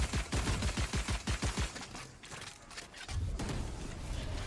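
Valorant gunfire during a VCT Americas playoff match between 100 Thieves and Cloud9: a rapid train of about ten sharp shots in the first two seconds, then a brief lull before a second dense volley of fire, loud and close.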